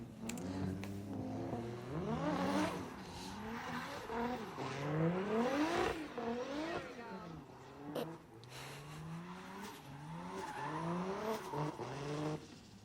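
A Nissan S14 drift car's engine revs up and down repeatedly as the clutch is kicked, with rising and falling sweeps close to the listener and occasional tire noise.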